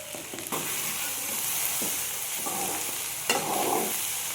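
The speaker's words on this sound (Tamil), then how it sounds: "இது எல்லாமே நல்லா படுற அளவுக்கு நல்லா பரட்டி விட்டுடலாம்." Okra stir-fry tossed with salt in a pan, soft sizzling under repeated scraping stirs, quiet and close with no talking.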